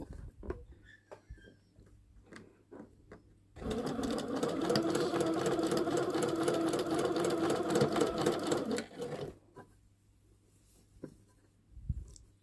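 A sewing machine stitches cotton tape along the edge of a mini dress, running steadily for about five seconds with a fast, even mechanical whirr and patter, framed by quiet handling noises before and after.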